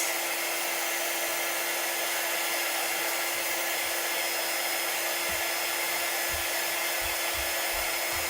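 A hair dryer blows steadily and close by, drying a chalk-painted autumn tiered-tray craft piece. The broadband whoosh runs continuously with no talk, with a few faint low thumps near the end.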